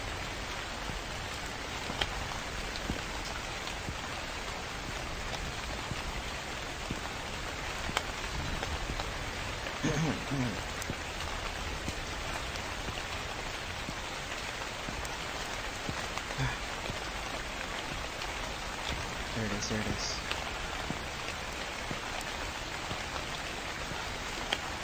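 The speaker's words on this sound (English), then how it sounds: "It's also very loud now because of the rain." Steady, loud rain in the horror video game The Convenience Store at night: a dense, continuous hiss that holds unbroken for the whole stretch, with faint footsteps now and then.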